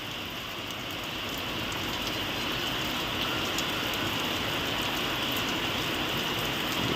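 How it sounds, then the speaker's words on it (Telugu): Steady rain falls continuously on a country chicken farm, a dense hiss of drops close by with no voices. "వర్షం ఎట్లా వస్తుంది"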